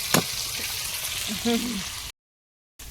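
Fish fries in a wok with steady sizzling and crackling oil, with a few brief voices over it before the sound cuts out abruptly near the end.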